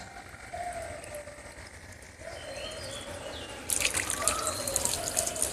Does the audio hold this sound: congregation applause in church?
no